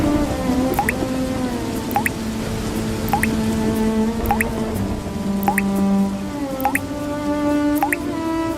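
Rainwater drips steadily from the roof of a poor farmer's hut in an animated storm, the drops falling one after another in an even, plinking rhythm over a soft wet background, close and clear with no talking.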